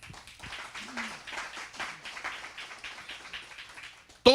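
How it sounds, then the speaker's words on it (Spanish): A church congregation claps for the Lord during a Spanish-language service, a dense patter of hands with voices calling out over it, ending in a sudden loud burst right at the close. "Dele un aplauso al Señor"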